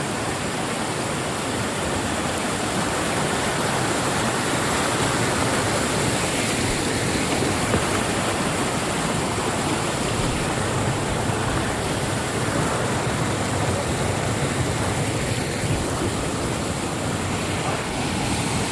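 Fast-flowing water rushes at Sahastradhara near Dehradun in Uttarakhand, a loud, steady, broadband roar that continues unbroken and close throughout.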